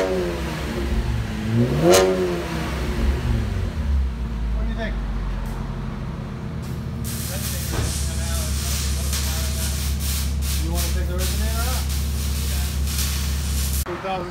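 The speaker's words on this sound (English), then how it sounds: "Let us know what you guys think about the sound and the look of it." A 2017 Chevy Camaro RS V6 with a dual exhaust, Dynomax Super Turbo mufflers and a resonator delete revs up sharply from idle, then holds a loud, raspy, steady exhaust drone close by.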